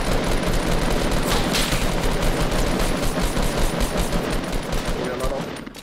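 Rapid bursts of gunfire crackle loudly and almost continuously, like automatic weapons firing in Fortnite, with no voices.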